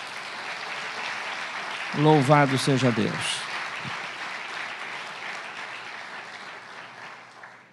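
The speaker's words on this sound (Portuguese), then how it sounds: "aplaude e glorifique o Senhor." A church congregation applauds during a sermon, a soft, distant patter of clapping that runs throughout, while someone speaks briefly over it in the middle.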